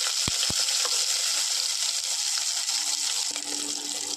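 Whole small onions fry in hot oil after mustard seeds have been tempered, a strong continuous sizzle with a couple of sharp knocks at the start, no talking.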